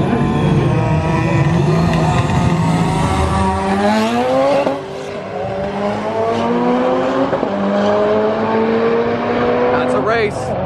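A VW Golf R (MK7) and V8 cars in a roll race, engines roaring loudly as they accelerate, pitch climbing through repeated gear shifts, with people talking and shouting over the noise.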